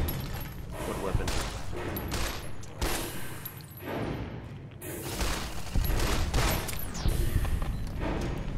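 Dense rapid gunfire from the video game Fallout New Vegas, loud and continuous bursts with booming impacts, running through the whole stretch with game sound layered in.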